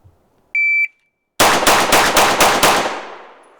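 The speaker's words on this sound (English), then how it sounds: "From the low ready, 6 rounds in 4 seconds." Six rapid handgun shots fired from low ready with a compensated pistol, either an S&W Carry Comp 2.0 or a Walther PDP, loud and close in a quick even string after a short electronic timer beep, echo trailing off.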